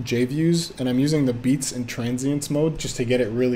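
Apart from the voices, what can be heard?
None of the usual background noises is heard.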